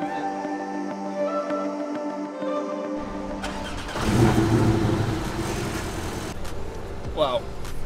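Porsche Cayman with PDK gearbox starting up for the first time on a driving experience in Germany's Black Forest: a quiet stretch, then the engine cranks and catches with a rising rev, settling to a steady idle with people talking nearby.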